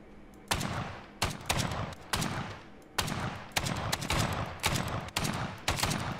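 Gunfire from a hard-kicking gun in the sandbox game YLand: a series of sharp, loud shots and short bursts at irregular intervals, each trailing off into echo.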